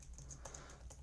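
Quiet, rapid tapping on a computer keyboard, a handful of soft keystrokes with no voices.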